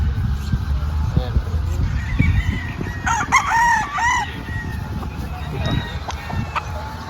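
A White Kelso gamefowl rooster crows once, loud and close on a farm, its call drawn out over a second or so amid background rustling, with other birds faint in the distance.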